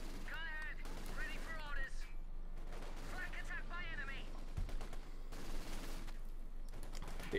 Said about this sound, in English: Bit of shooting here and there.